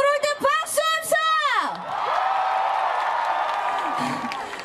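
At an outdoor summer festival concert in Ulsan, the crowd cheers and applauds after loud, close whoops and yells, settling into a steady wash of clapping and cheering.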